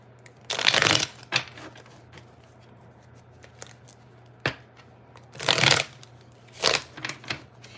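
Tarot cards are shuffled in several quick riffling bursts, close and crisp, separated by quiet pauses over a faint steady hum.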